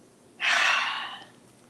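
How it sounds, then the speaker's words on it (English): A single forceful exhale through an open mouth during yoga breathing, close and breathy, starting abruptly and tapering off over about a second. "Open your mouth for one of the exhales."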